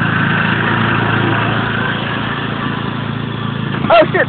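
A tractor towing a person surfing behind it, its engine running as a steady close drone with voices shouting briefly near the end.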